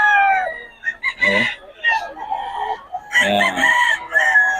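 Roosters crow repeatedly at a cockfighting-bird market in Bocaue, loud and close, with several overlapping calls while someone talks over them.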